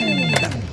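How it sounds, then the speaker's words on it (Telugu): A telephone rings in a Telugu film comedy scene, a steady electronic ringing tone heard alone and fairly loud for under a second. "ఫోనే మోగుతుంది."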